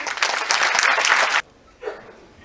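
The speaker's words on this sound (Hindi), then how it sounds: "एक बार जोरदार तालियां इस फिल्म के लिए बजा दीजिए।" An audience claps for about a second and a half after a film screening at an event in Bhopal, loud and dense, then breaks off abruptly, followed by a short fainter burst.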